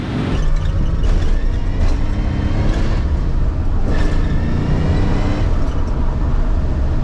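A restored barn-find 1967 Shelby GT500 is driven, its engine giving a loud, continuous, rumbling roar heard close from inside the car.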